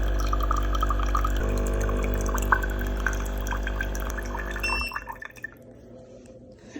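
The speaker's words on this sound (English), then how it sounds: "it adds the cold water to make the bottle up to the size that you have indicated" Tommee Tippee Perfect Prep machine pours cold water into a baby bottle, a steady trickling fill with small drips and a faint glassy ring, stopping abruptly near the end.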